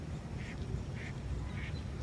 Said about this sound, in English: There's another duck right here.